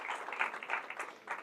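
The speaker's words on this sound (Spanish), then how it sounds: "Yo pido un fuerte aplauso para Él, porque Él es el único digno de alabanza." A church congregation applauds after a call for loud applause during a Spanish-language sermon, the clapping a steady, fairly faint patter heard at a distance.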